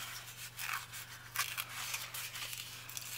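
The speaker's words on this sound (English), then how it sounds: "I'm just going to tear that out" A page is torn out of a ring bound journal in several close, rasping paper rips across a few seconds, with no talking.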